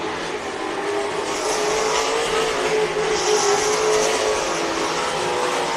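RaceSaver sprint cars race on the dirt oval at Crawford County Speedway, a loud continuous engine roar swelling and easing as cars pass through heavy lap traffic, with no voices.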